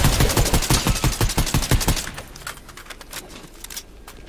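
Rapid bursts of gunfire from enemies in a video game crackle loudly for about two seconds in a tight rhythmic run, then drop away to a quieter, scattered background of faint distant shots.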